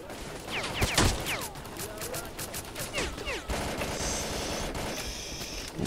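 Rapid gunfire rattles through a firefight against Monolith fighters in S.T.A.L.K.E.R. Call of Pripyat, dense automatic bursts up close with scattered shots and mechanical clatter, continuing without pause.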